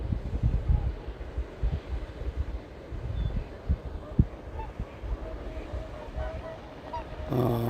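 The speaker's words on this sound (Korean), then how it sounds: "고니가 뜨니까 오리까지 다 날아가지고" Wintering swans and ducks lift off from a river in winter, a broad wash of wingbeats and goose-like honking calls spread across the flock, with some wind noise and a few louder nearby calls toward the end.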